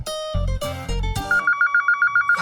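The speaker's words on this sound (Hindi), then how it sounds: "ये फोन भी ना हमेशा गलत टाइम पे बजता है।" A telephone rings with a run of rapid, evenly pulsed electronic trills, loud and close, following a few louder musical stings.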